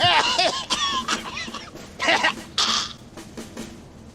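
A cartoon character coughs in the adventure video game Sam & Max Save The World: several short, raspy hacking bursts and throat noises spread over a few seconds, close and fairly loud with no other voices.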